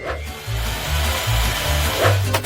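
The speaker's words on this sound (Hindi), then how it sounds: "मैं यहाँ सब ड्रिल करूँगी।" A drill running steadily in a noisy indoor setting, a loud continuous whirring grind that wavers in pitch for a few seconds with no speech.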